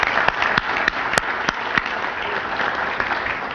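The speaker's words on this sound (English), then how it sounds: "Let's give all our new members a round of applause." A breakfast crowd of chamber members applauds new members, steady dense clapping from a roomful of people with a few sharp individual claps standing out, close and moderately loud.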